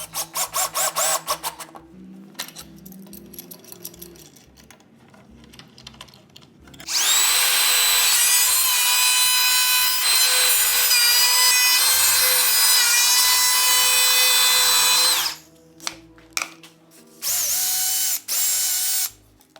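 A power drill drives screws into wooden stagecoach trim in a shop, with short buzzing bursts, then a long, loud, whining run, then a few more brief spurts.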